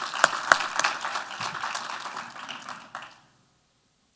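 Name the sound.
audience applause for sponsors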